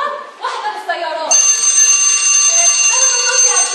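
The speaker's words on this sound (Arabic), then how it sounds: "لا، بل هو جرس في المدرسة" A school bell rings as a sound effect in an Egyptian stage comedy, a steady bright electric ring starting partway in and continuing loudly to the end, with brief speech before it.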